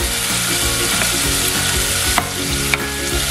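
Loud, continuous sizzling of garlic frying in a pan for homemade chicken skinless longganisa, with a couple of sharp clicks of stirring against the pan and no voices.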